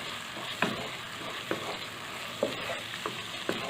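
Finely chopped tomatoes fry in a pan for dhaba-style palak dal, a steady close sizzle broken by several soft scraping stirs at irregular intervals.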